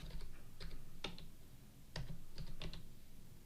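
Keystrokes on a computer keyboard while entering program input, a few scattered clicks in short bursts, close and fairly quiet with no talking.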